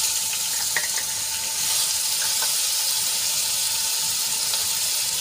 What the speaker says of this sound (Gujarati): મરચાં અને લસણની પેસ્ટને આપણે થોડીક સાંતળી લઈશું.